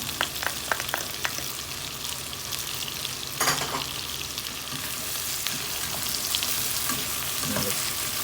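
Shrimp frying in a pan with butter, garlic and dried meat seasoning, a steady close sizzle with occasional stirring scrapes and light pops throughout.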